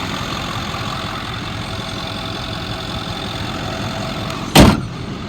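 A 2009 Ford F-550 XL stake truck engine idles with a steady, smooth, close rumble, broken near the end by one short sharp knock.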